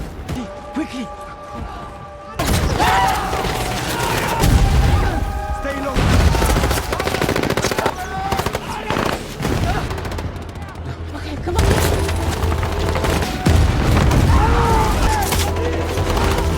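Heavy battlefield gunfire from the film Greenland 2: loud bursts of rapid machine-gun fire and booming explosions, with rumbling blasts and crashes, intermittent talk, and a short quieter stretch at the start.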